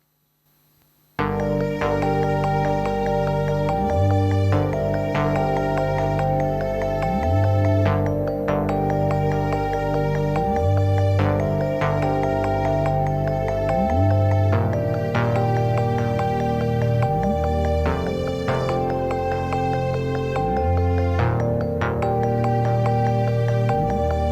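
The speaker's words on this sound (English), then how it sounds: "So these are pads, strings, and keys." Layered synthwave pads, strings and keys play a steady, full chord progression with pulsing low synth swells, continuous and alone with no voices.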